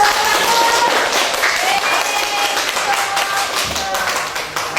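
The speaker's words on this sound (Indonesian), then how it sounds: "Kasih tepuk tangan." A classroom of students claps together in a brisk burst of applause, dense and lively at first and thinning slightly toward the end, with voices faintly mixed in.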